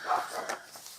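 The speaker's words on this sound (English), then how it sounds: "Excuse the dog barking." A dog barks indoors during a crochet book review at home, a few faint, short yaps and woofs somewhat distant, with no talking over them.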